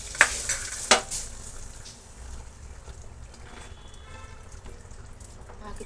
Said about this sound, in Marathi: मी आता याच्यामध्ये तडका टाकून घेणार आहे आणि व्यवस्थित आता मिक्स करून घेणार आहे